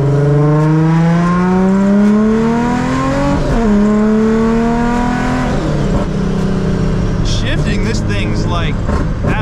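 A boosted Nissan 350Z race car engine revs up loud and close, its pitch climbing, dipping at a gear change and climbing again as it pulls hard.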